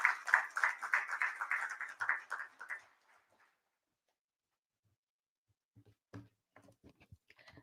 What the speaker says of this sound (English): Round of applause for Ruchika Pandey